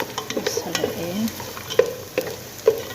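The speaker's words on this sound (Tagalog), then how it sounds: "Haluin hanggang brown yung garlic." Garlic and dried lemon frying in a pot while being stirred, with a soft sizzle and scattered scraping clicks of the spoon against the pot, moderately close.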